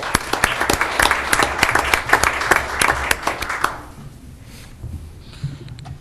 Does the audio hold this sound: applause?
yes